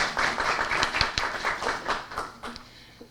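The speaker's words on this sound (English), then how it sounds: "give him a round of applause" Audience applause at a Lions Club Peace Poster Contest event, a burst of many hands clapping that builds quickly and then tapers off over about three seconds.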